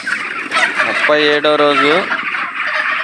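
Broiler chickens on a poultry farm cluck and squawk close by, with one loud drawn-out call standing out in the middle while someone talks over the flock.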